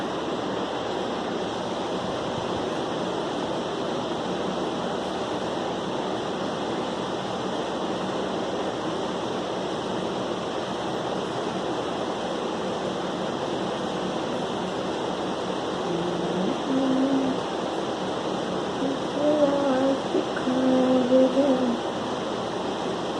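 An air cooler runs steadily indoors, giving a constant whooshing fan drone with a low hum that persists unchanged, while a few faint tonal clinks rise near the end.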